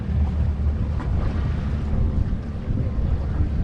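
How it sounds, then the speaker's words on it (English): Large Coast Guard vessel's engines rumbling near a channel off Key West, a steady low throb mixed with heavy wind buffeting and water wash, continuous and fairly loud with no talking. "he just put his engines in forward"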